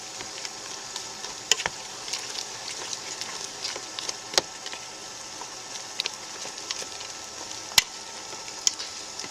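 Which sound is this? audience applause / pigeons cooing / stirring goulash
stirring goulash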